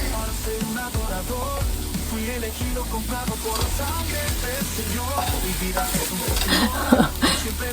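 Onions and garlic for spicy broccoli chicken soup sizzle in a pot while being stirred, a close, busy crackle mixed with scraping and knocking of the spoon that grows a little louder near the end.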